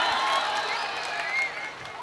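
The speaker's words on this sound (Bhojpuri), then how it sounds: "एक बार जोरदार ताली तो बजाइए सपना जी के लिए" An audience at a stage show claps and cheers in a dense, steady burst that eases off toward the end, with no voices rising above it.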